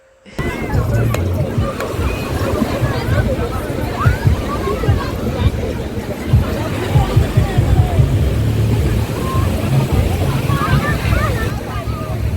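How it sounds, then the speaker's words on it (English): Busy Labadi Beach in Ghana on Christmas Day: surf washing in under a dense babble of a crowd, with wind buffeting the microphone and chatter throughout at a steady, fairly loud level. "this is Labadi beach"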